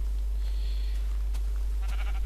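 Sheep in the video game Minecraft give two short bleats over a steady low hum.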